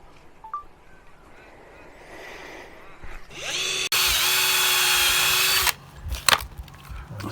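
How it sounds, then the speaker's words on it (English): A power drill bores a pilot hole 15 millimetres from the end of an annexe pole, spinning up and running at a loud, steady whine for about two seconds before stopping, with light handling clatter before and after. "So we're drilling a pilot hole"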